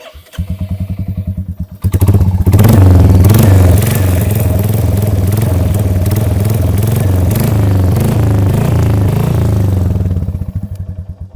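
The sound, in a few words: Royal Enfield Hunter 350 motorcycle engine running, minor tappet noise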